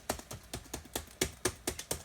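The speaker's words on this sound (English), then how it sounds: "you can sit here and press buttons on the keyboard" Keys clatter on the built-in keyboard of a Panasonic Toughbook CF-C1 convertible laptop, about ten crisp, close taps at an uneven typing pace, with no talk.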